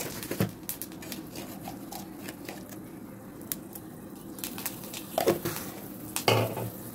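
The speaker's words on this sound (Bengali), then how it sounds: "হাতে কালো জিরে আর শুকনো লঙ্কা ফোড়ন দেবো।" Black cumin seeds and dried red chillies temper in hot oil in a home kitchen: a soft, steady sizzle runs beneath intermittent clinks and scrapes of a spoon against the pan, with a few louder stirring knocks near the end.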